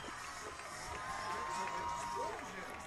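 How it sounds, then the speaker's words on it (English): Players out of the dugout at a college baseball game clap and cheer after a two-run home run, a steady wash of cheering and crowd noise lasting throughout, with a brief whistle-like tone partway through. "The entire team out of the dugout, clapping and cheering."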